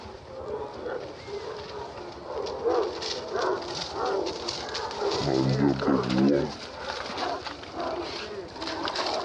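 A puppy barks in a short burst of repeated yaps midway, with bird cooing and some background voices around it outdoors.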